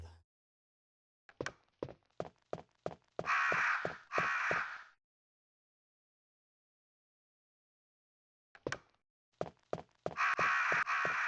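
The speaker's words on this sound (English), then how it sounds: "With the crows watching the entire time." Crows in the Resident Evil game give two bursts of cawing, each a quick series of short, evenly spaced calls ending in longer, harsher squawks, separated by silence; clear and close with no talking.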